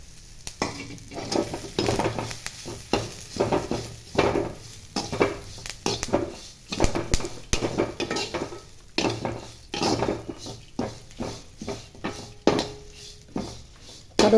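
Curry leaves dry-roasting in a pan, with repeated scraping stirs and light crackling rustles in an irregular rhythm, close and moderately loud, no talking.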